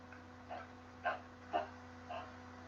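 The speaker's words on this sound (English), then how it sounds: "He has a little toy that's honking. It's a little hedgehog." Dog playing with a small honking hedgehog squeak toy, four faint squeaky honks spaced about half a second apart against a quiet indoor background hum.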